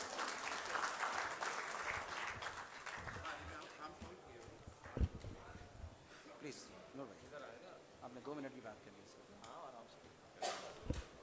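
Audience at an election get-together clapping loudly at first, then the applause thins and fades while people talk and scattered clatter and footsteps follow.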